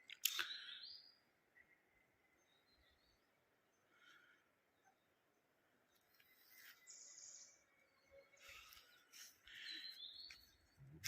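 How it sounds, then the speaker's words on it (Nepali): Several birds chirp and tweet in short, scattered bursts, some sharp calls close and others softer and distant, over a very quiet background with no talking. "यो चराचुरुङ्गीको आवाज सुनिदिनुहोस्"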